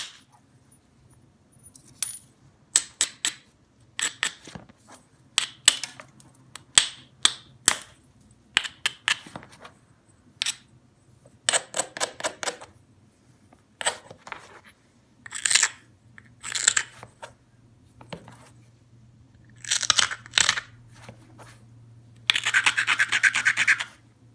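Flintknapping on soft Georgetown stone with a soft hammerstone: a long run of sharp, dry percussive cracks and scrapes, irregularly spaced, close and clear with a faint low hum beneath and no talking.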